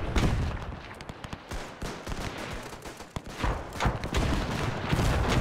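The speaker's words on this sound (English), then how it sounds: "It's that bloody machine gun." Machine gun fire in the WW1 video game Between Empires, German Empire side: dense, rapid bursts of gunshots and overlapping volleys roll on loudly without pause, with no speech.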